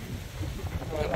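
Steady wind rumbles and buffets the microphone outdoors on open land in Spain, a low continuous roar with a faint brighter hiss rising toward the end.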